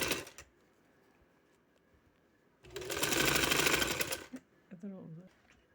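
A sewing machine runs in one steady burst of stitching for about a second and a half along a trouser seam, loud and close, with quiet handling before and someone speaking briefly after.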